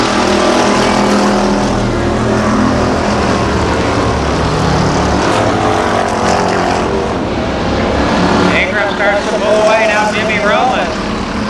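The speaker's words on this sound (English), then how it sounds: "The new leader is Ingram, Kevin Ingram in car 43." At Columbus Motor Speedway in 1993, ARCA race cars roar past in a continuous, loud engine drone that swells and fades as they circle the track, while an announcer talks over it.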